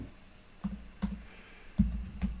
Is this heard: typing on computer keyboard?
yes